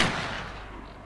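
A single gunshot in S.T.A.L.K.E.R.: Shadow of Chernobyl, a sharp loud crack that decays quickly into a short rumbling tail.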